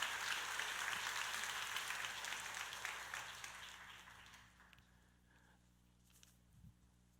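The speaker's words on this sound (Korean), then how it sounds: "내 자녀들에게 박수를 한번 보내주세요" Church congregation clapping for their children during a special early-morning prayer service, a soft distant wash of applause that fades over several seconds into quiet room tone with a faint thump near the end.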